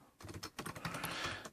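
Quick bursts of keystrokes on a computer keyboard while a command is entered to flash a factory image to a Nexus phone, close and clear with short irregular pauses and no voices.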